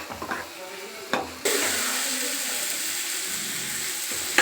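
Grated coconut sautéed in a pan and stirred, a few scraping spoon strokes followed by a steady, close hiss of frying.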